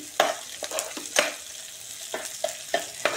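Onions fry in a pan for paneer matar gravy, a soft steady sizzle broken by sharp irregular scrapes and clacks of stirring, close and fairly quiet with no talk.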